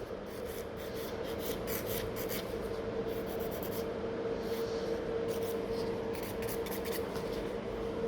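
Steady, continuous rasping of a nail file tapering an acrylic nail during a stamped nail art set with glitter encapsulation, close and even with rhythmic strokes throughout.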